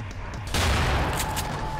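A sudden burst of rapid gunfire from the video game UnderHell erupts and continues as a dense, noisy fusillade, with faint voices underneath.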